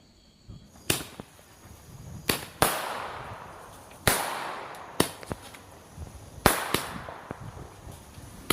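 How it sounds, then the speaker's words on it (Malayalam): Vishu firecrackers burst one after another, about eight loud, sharp cracks spread unevenly over several seconds, each leaving a short crackling tail. "വിഷു അടിപൊളി പടക്കം ഇതൊന്ന് പൊട്ടിച്ചിട്ടൊന്ന് കാണണം"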